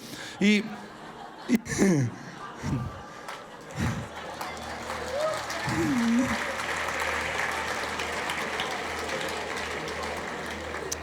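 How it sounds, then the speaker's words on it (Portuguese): Conference audience laughing and clapping, with bursts of laughter and whoops early on giving way to a building, sustained round of applause. "O pior é vocês que aplaudiram"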